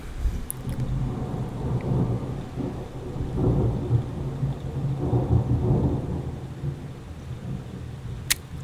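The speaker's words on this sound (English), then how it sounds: "Thunder." Rolling thunder rumbles low and steady through a soft wash of rain, swelling in slow waves with a faint crackle near the end; no voices.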